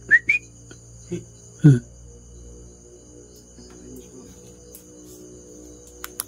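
Someone whistles in the dark, two short rising notes right at the start, fairly near, then the scene falls to a quiet night hum with faint insect sounds and a few scattered knocks.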